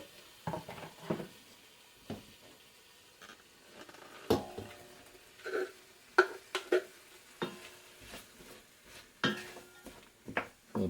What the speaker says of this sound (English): Let's chuck all the veg in.